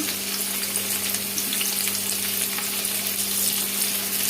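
Eggplant frying in a hot pan, a steady dense sizzle and crackle of oil that continues evenly throughout, with no voices.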